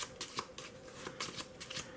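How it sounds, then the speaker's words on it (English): A deck of playing cards is shuffled up close in a quick series of riffling bursts, crisp and quiet, with no talking. "Go ahead, shuffle."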